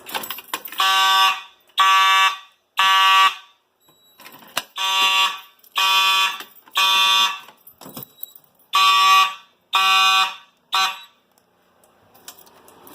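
A Simplex fire alarm sounds after a pull station is pulled, giving loud repeated electronic horn blasts in a regular on-off temporal pattern, about eleven bursts with short pauses between them.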